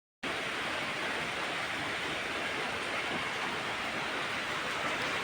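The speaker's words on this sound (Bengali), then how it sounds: "অনেক বৃষ্টি পড়ছে, তবুও যেতে হবে।" Heavy rain pours steadily outdoors, a dense, unbroken hiss that stays loud and even from start to finish with no voices.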